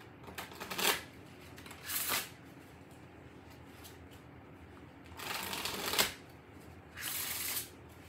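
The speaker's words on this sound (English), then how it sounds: "Let me use the Vampire Tarot real fast." A deck of Vampire Tarot cards is shuffled in four quick riffling bursts, close and fairly quiet, with short silences between them and no talking.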